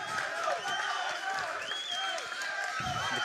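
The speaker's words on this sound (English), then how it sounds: "The crowd is absolutely electric." Crowd at a varsity high school baseball game between Belen Jesuit and G. Holmes Braddock cheering and shouting steadily from a distance, a continuous murmur of voices and whoops throughout.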